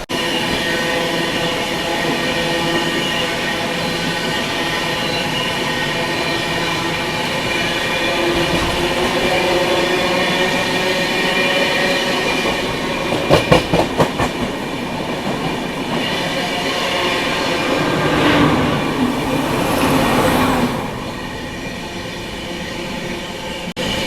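The Tamil Nadu Sampark Kranti Express runs on rails, heard from on board as a loud, steady rumble with rhythmic clickety-clack and a brief burst of sharp rattling midway as another train passes.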